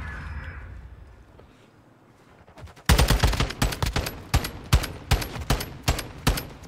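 Gunfire in Modern Warfare 2 bursts in loud, sharp shots, a rapid cluster followed by steadily spaced single cracks, after a quiet stretch of low background noise.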